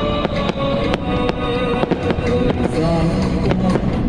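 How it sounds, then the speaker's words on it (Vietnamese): Fireworks display at the Winterland show in Nha Trang, with dense, continuous sharp bangs and crackles bursting in rapid succession, loud and close, with faint crowd noise beneath. "những màn trình diễn pháo hoa đẹp tuyệt vời luôn"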